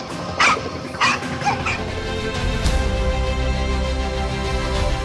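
A pitbull fighting a giant python gives a few short yelping barks and whimpers in the first two seconds, then a steady loud rumbling struggle continues underneath.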